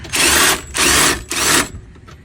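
A power drill fitted with an adapter cranks trailer stabilizers in three loud, whirring bursts of about half a second each, separated by short pauses, followed by faint clicks.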